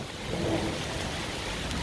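Rain falling on outdoor chili plants during a summer storm, a steady even hiss of drops spread across the whole clip, with no voices over it.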